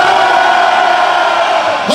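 A large arena crowd of men at a hip-hop concert in Hannover roars and shouts in a loud, sustained wall of cheering that holds steady for the whole stretch.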